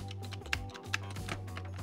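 Typing on a cheap membrane keyboard, a quick run of soft, muffled key presses with a few sharper clacks, close up over a steady low hum.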